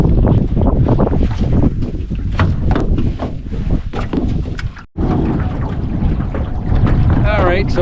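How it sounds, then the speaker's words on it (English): Wind sweeps steadily across the sheltered side of a lake island in Wabakimi while a boat trolls along, a loud, gusty rush with boat and water noise and a brief dropout midway. "Wind's still going through, but the waves aren't as big."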